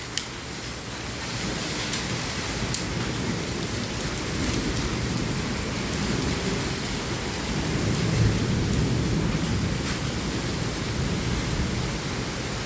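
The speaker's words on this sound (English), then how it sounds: "It hasn't rained this hard in so long." A thunderstorm downpour with hail drums steadily close by, a thick continuous wash of heavy rain that swells slightly in the middle and stays loud and even to the end.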